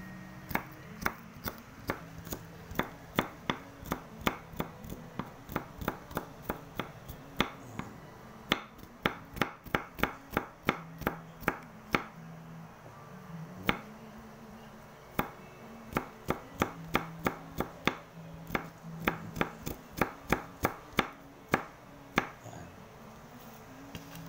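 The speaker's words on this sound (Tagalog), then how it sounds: "gayatin muna natin itong ating bawang. So, idurogin natin yung hiwang maliliit lang." A knife chopping garlic into small pieces on a board, rapid sharp taps in quick bursts with brief pauses throughout, close and clear with no talking.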